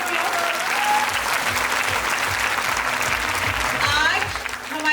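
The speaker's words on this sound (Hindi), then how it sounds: "एक बार मैं शहाबुद्दीन सर के लिए जोरदार तालियां चाहूंगी।" Loud, continuous audience applause at a business event in Ludhiana, a dense crowd clapping throughout, with a voice speaking briefly over it and some whistle-like tones near the end.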